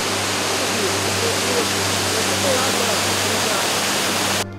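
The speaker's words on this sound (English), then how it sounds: "it is the point where water stream overflowing from Fewa Lake suddenly collapses and surges down the rocks into a deep gorge" Patale Chhango (Davis Falls) in Nepal, where water overflowing from Fewa Lake plunges down rocks into a deep gorge, gives a loud, steady, unbroken rush of falling water.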